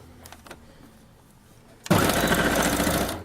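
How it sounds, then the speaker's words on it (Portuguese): A domestic sewing machine stitching a fabric hem starts up after a couple of quiet seconds with faint handling clicks, then runs in a loud, rapid, steady mechanical chatter close by. "eu venho fazendo essa costura, prestando atenção sempre aqui no pé de máquina"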